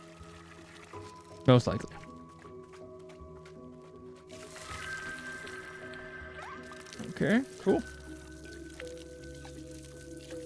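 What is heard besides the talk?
filling a watering can in the video game Wanderstop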